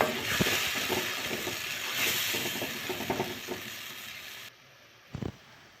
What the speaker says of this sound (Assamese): এতিয়া আকৌ ভালদৰে ভাজি থাকিব লাগিব